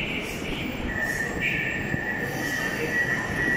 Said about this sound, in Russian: Станция новая на Некрасовской линии.